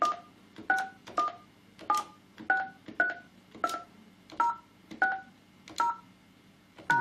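A run of about eleven keypad presses on a Yealink SIP-T38G IP phone, each a short, clear two-tone DTMF beep. The beeps come in a fairly steady rhythm, close and alone, with faint handling noise between them.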